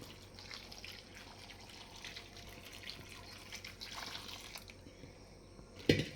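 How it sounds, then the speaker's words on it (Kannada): Warm water runs and trickles over washed cauliflower florets in a kitchen, a steady soft splashing flow that ends with a brief louder splash. "ಇದಕ್ಕೆ ಸ್ವಲ್ಪ ಬೆಚ್ಚಗಿರೋ ನೀರನ್ನ ಹಾಕಬೇಕು"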